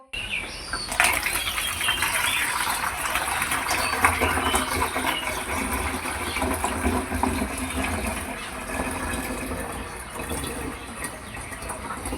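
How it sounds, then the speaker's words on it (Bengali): Water pours steadily into an open plastic bottle for about twelve seconds, a continuous splashing, gurgling stream heard close up without pause or speech, as the bottle is filled for a homemade gas balloon experiment. "এবারে এটার মধ্যে আমরা জল দিয়ে দেবো"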